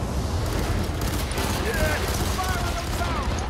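Sustained gunfire in the shooter F.E.A.R. 3, a rapid stream of shots under a speaking voice, with some whistling effects in the background.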